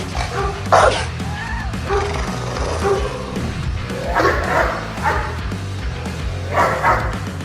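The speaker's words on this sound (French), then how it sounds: "Voici à quoi ressemble une véritable attaque d'un Doberman." A Doberman barks aggressively during an attack, letting out several loud, close barks mixed with higher yips and whines in uneven bursts.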